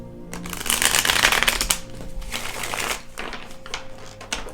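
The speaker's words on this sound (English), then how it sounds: "I've already shuffled." Tarot cards are shuffled by hand in quick, crisp riffling bursts with papery flutters and soft taps, heard close and at fairly high volume.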